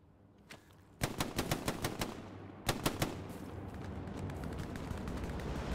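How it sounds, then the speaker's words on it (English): Gunfire in the World War II shooter Hell Let Loose: a sharp burst of rapid rifle or machine-gun shots, a pause, then another volley, with distant rumbling battle noise continuing underneath. "Somebody shooting this way?"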